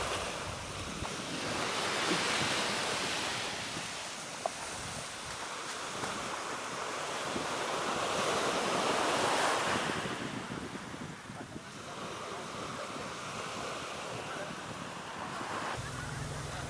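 Steady sea breeze rushing over a beach in Sabang beside surf, the wind buffeting the microphone in broad continuous gusts that swell and ease, with breaking waves washing underneath throughout and no talking.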